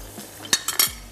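A spoon clinks and scrapes against a pan while olive pomace oil is stirred, a few sharp metallic taps close by within about a second.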